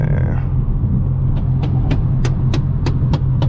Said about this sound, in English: This is what it's like driving on the highway in a BMW.